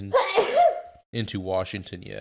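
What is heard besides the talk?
sneeze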